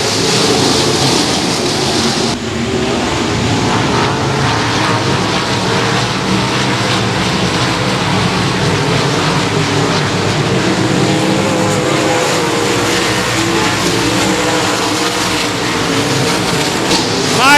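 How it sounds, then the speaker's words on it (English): Sprint cars roar around a speedway in a continuous loud drone of engines, the pack passing nearby throughout. "We are sprint car racing."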